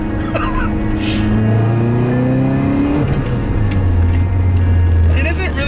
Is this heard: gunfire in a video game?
no